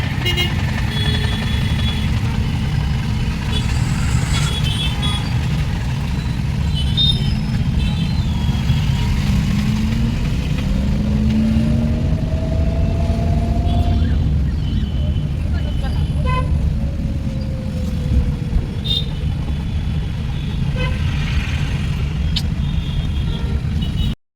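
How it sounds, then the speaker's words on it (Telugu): Heavy road traffic near the Hanuman temple in Sangareddy, with a steady roar of cars and buses and several car horns honking at different pitches, a couple of rising horn tones standing out around the middle, with talk faintly underneath. "అమ్మయ్య చాలా ట్రాఫిక్ ఉంది."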